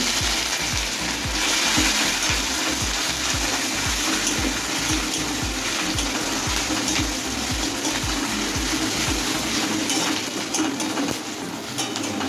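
Asafoetida and chopped ginger sizzle steadily in hot oil for a Bengali potato-and-pea curry, a loud, dense frying hiss with rapid crackling pops throughout and no talk.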